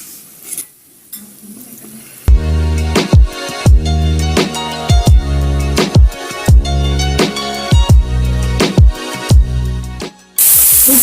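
Chicken pieces frying in a frying pan with 1.5 tablespoons of oil, a loud sizzle broken by a rhythmic series of scraping, clattering strokes as the pieces are stirred, after a quiet start.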